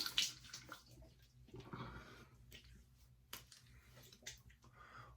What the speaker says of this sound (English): get a nice hot water rinse here